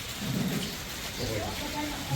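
Steady monsoon rain falls loudly in Surat, India, with low rumbling thunder rolling underneath and a faint murmur of voices toward the end.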